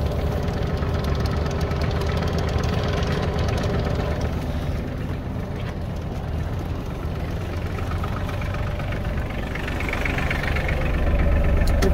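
An Iseki Geas 33 tractor engine runs steadily nearby, a continuous low, knocking diesel rumble with mechanical vibration and no pauses, swelling slightly louder toward the end.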